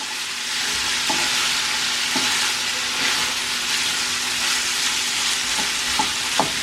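Onions and pork neck sizzling in a frying pan, a steady bright hiss of frying broken by a few soft scrapes and taps of stirring, close and continuous with no voices.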